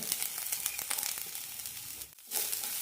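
Grated coconut and curry leaves fry in a pan with fenugreek for sambar, a steady close crackling sizzle that briefly dips before resuming.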